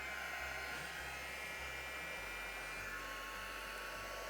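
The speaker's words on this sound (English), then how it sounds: "Just do the back as I warm the heat gun up." A heat gun blows hot air in a steady, loud broadband whoosh with a low hum underneath, running continuously and close up with no talking.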